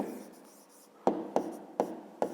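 A pen or pencil writes numbers on paper for a fifth-grade maths exercise, a soft scratching stroke followed by four sharp, evenly spaced taps, close and quiet.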